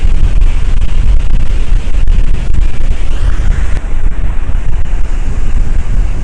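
Ocean waves and wind on a beach at Morro Bay in the evening, a loud, constant rushing roar of surf with heavy wind buffeting the microphone throughout, no voices.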